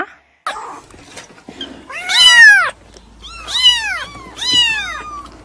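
A cat meows three times in a row, loud and close, with drawn-out falling calls separated by short pauses.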